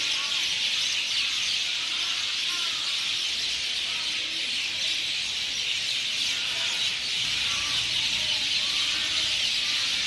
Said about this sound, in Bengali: পাখিদের কিচিরমিচির কার না ভালো লাগে